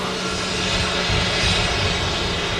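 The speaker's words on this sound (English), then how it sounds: "Here is our Ryanair 73 just touched down." A Ryanair Boeing 737 touching down at Manchester Airport gives a loud, steady jet engine roar that swells slightly in the middle, heard from nearby with no voices.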